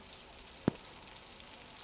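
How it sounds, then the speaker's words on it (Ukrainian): Meatballs sizzle quietly in a pan with a steady soft hiss, and a single sharp pop of oil stands out. "піджарю я з двох боків їх і у соусі протушкую"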